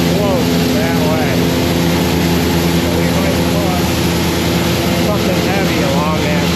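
A grain auger running up into a silo, giving a loud, steady mechanical drone with a whine that rises and falls, plus a continuous rumble close by, while someone talks over it.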